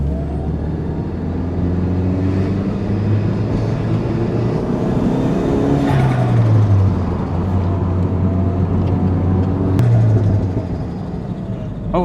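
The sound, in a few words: Audi car engine revving while shifting gears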